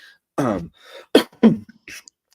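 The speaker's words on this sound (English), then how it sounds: "sorry, excuse me, I had to cough" A single person coughs and clears their throat a few times, short harsh bursts close to the microphone separated by brief silences.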